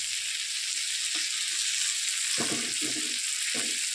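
Dried fish frying in a pan gives a dense, continuous sizzle, with a few short soft knocks and stirring scrapes toward the end, close and steady with no voices.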